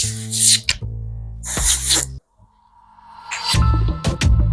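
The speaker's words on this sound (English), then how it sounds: "spray it like this" Short hissing bursts of a cleaner spray hit bike helmets, several quick puffs in succession with a brief pause and tapping handling sounds between them.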